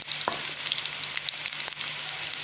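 Sliced onions fry in oil in a kadhai, browning lightly for a vegetable bhujia of cabbage, potato and carrot, giving a steady close sizzle with a few sharper crackles and light stirring clicks.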